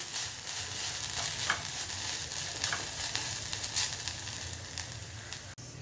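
Quiet, continuous sizzling and crackling of ginger and curry leaves in a hot pan, with occasional soft stirring scrapes, heard up close without any talking.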